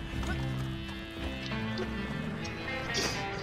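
Horse from a video game, with hoof clip-clops and a whinny over dense, steady game music and effects, loud and continuous throughout.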